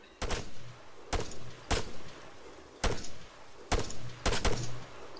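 Gunfire in the Arma 3 video game: about ten sharp, loud reports in irregular single and double bursts, each with a short rumbling tail, over quiet background.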